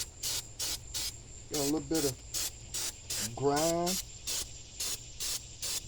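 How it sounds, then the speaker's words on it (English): Spray cleaner hisses in short regular bursts onto the grimy carburetor and intake of a 1988 GMC 350 5.7 engine, close and steady, while someone speaks briefly between sprays. "I'm gonna spray it down."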